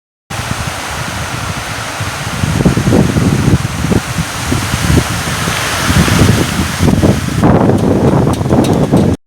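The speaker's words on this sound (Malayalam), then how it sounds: "പെട്ടെന്നാണ് നല്ല കാറ്റും മഴയും വന്നത്" Loud, continuous roar of strong wind and heavy rain, gusts rising and buffeting the microphone throughout.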